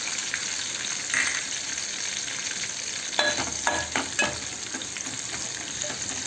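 Mustard seeds frying in hot oil in a pan beside curry leaves, a soft steady sizzle with a few sharp crackles and pops bunched in the latter half.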